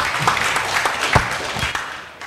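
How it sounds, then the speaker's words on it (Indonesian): An audience claps at a school event at a vocational high school in Lamongan, a short burst of dense applause that swells and then fades. "Iya, tepuk tangan."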